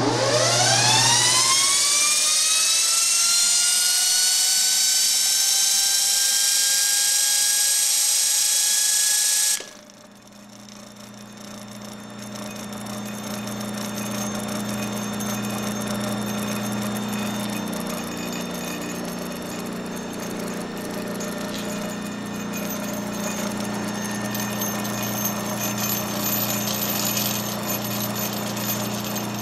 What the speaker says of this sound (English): That noise is the oil slinger ring for the bearing.